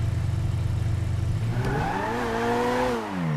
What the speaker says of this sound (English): Turn the game up, just so that you can hear the sound of the engine.